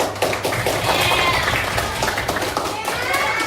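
Classroom applause from fifth-grade students during a maths lesson, a dense patter of small hands clapping steadily for a few seconds, close and moderately loud, with children's voices mixed in.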